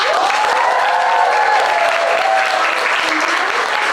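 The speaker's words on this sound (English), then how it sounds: "Let's give one more round of applause." An audience at a summer showcase reading event gives a sustained round of applause, loud and even throughout, with a faint voice briefly audible beneath the clapping.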